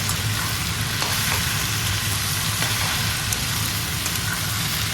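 Okra frying in a pan on a home stove, a steady dense sizzle running evenly throughout with no talking, close and moderately loud.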